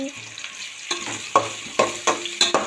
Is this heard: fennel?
yes